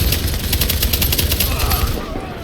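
Rapid automatic gunfire in The Division video game, a dense run of loud repeated shots that fades toward the end, with a voice briefly speaking.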